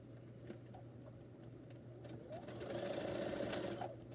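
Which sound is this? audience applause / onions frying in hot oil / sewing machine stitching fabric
sewing machine stitching fabric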